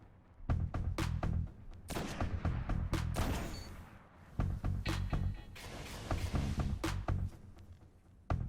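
Sniper rifle shots crack repeatedly in Destiny, with sharp reports following one another in clusters, some with and some without armor-piercing rounds against a Juggernaut shield.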